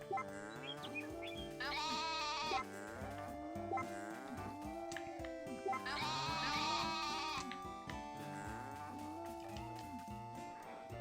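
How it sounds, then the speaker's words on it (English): A pregnant sheep bleats repeatedly in the farming video game Story of Seasons: A Wonderful Life, with several drawn-out, wavering calls rising and falling over a steady bed of game music. "it would appear that another one of our sheep is about to have a baby."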